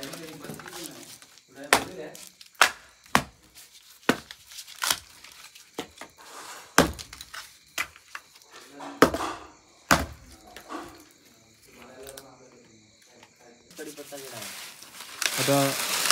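Pieces of firewood being stacked by hand into a layer for a popti fire pit in rural Konkan, Maharashtra, giving a string of sharp, close wooden knocks and crackles with people talking in between.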